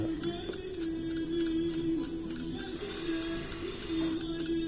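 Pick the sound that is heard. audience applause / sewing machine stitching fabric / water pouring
sewing machine stitching fabric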